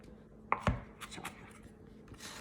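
Cucumbers for a creamy salad are chopped on a board with a knife, giving a couple of sharp close chops followed by a few softer taps and scrapes, quiet overall.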